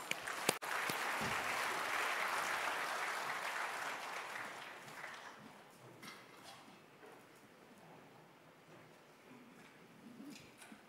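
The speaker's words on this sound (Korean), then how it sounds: "목사님을 우리 박수로 모시겠습니다." A church congregation applauds to welcome a pastor leading a communion service, a dense steady wash of clapping that gradually thins and fades into scattered claps and quiet room noise.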